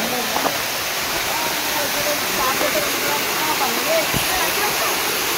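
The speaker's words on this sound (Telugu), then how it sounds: "వాటర్ సౌండ్ వినిపిస్తుంది మీకు" Water rushes steadily at the Ananthagiri Hills falls, a dense broadband hiss filling the whole stretch, with brief faint sounds on top.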